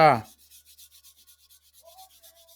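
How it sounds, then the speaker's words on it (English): Oil pastel rubbed and scumbled onto paper to smooth in peach tones while drawing an eye: a brief louder stroke, then soft, faint, evenly repeated rubbing strokes close up. "just want to rub that in, smooth that in"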